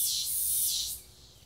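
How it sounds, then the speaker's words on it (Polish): Cicadas in Caacupe, Paraguay, during a hot summer Christmas season, a shrill buzzing drone pulsing in two swells, moderately faint and heard alone without talk. "Słyszycie na przykład u nas"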